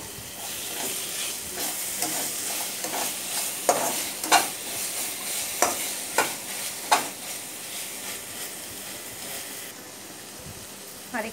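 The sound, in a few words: frying black cumin, onion and garlic in a pan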